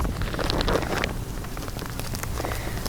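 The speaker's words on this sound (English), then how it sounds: "it's a little windy" Wind gusts across a hiker's microphone outdoors while an ultralight backpack is handled, giving a loud, steady, rough rumble with brief louder buffets.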